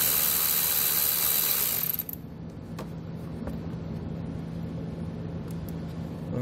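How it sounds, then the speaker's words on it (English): A ratchet with a 10 mm socket loosening the nut on a car battery's positive terminal during a wiring install on a 2019 Ford Edge, heard as a loud burst of rapid ratcheting clicks that stops after two seconds, leaving a quiet hum. "So I'm going to be using a 10 millimeter socket to loosen it up."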